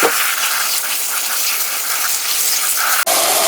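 Salted young radish greens are rinsed in a basin of water, giving a steady, close rush of splashing and sloshing with a brief dip near the end.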